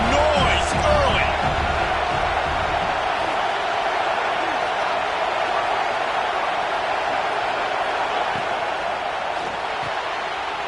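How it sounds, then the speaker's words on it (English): Stadium crowd noise in a football video game, a broad continuous roar of cheering at a steady level, with a few scattered thumps and voices talking over it. "This crowd bringing the energy and noise early."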